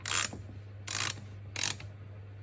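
A 17mm socket wrench works loose the brake master cylinder connectors on a Mercedes-Benz W, giving three short, close ratcheting bursts separated by brief pauses.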